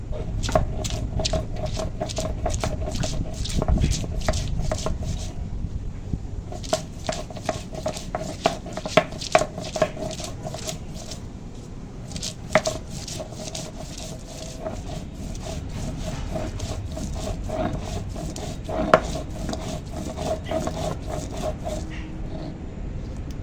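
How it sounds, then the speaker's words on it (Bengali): Ginger, garlic and green chilies are ground together by hand in quick, rhythmic scraping strokes, running in long bursts broken by brief pauses, close and fairly loud. "আদা রসুন কাঁচা লঙ্কা সব একসঙ্গে বাটা হয়ে গেছে"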